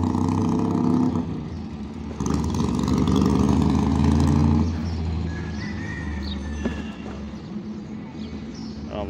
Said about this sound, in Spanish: Disculpen el ruido de este motor.